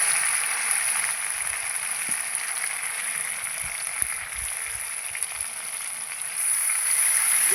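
Ground cumin, green chili and ginger paste with a splash of water hits a hot pan for a fish curry, giving a steady broadband sizzle that holds throughout, close and fairly loud, with faint clinks of stirring.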